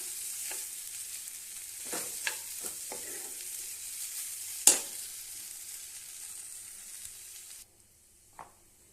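Okra (lady's finger) poriyal with grated coconut being stirred in a hot pan: a steady sizzling hiss with repeated scraping stir strokes, one sharp clack midway, then fading to a quieter sizzle near the end.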